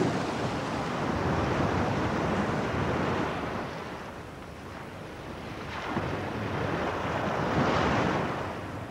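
Sea waves off the north coast of Scotland surge and wash in a broad, continuous roar, swelling and easing in slow cycles with wind buffeting the microphone, no voices present.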